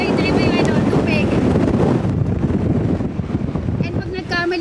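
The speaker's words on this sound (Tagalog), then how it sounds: "Grabe lakas ng hangin." Strong wind buffets the microphone in a steady loud roar beside water, heard outdoors while biking on a mountain bike, with people talking underneath.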